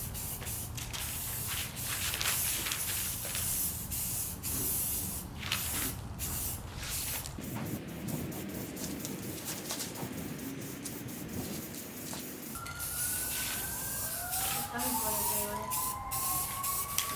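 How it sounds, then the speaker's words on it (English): Steady hissing of an aerosol spray paint can on a Mazda FC RX-7 in a driveway, continuous with brief pauses, fairly close, with faint background sounds and a few whistly tones near the end. "This guy's spray painting in his driveway."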